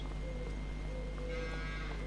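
Cows in the Farming Simulator 25 video game moo in a short burst, a drawn-out low call over a steady hum of game background sound, with no talking.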